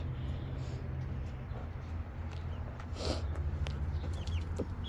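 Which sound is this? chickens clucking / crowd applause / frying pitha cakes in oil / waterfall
chickens clucking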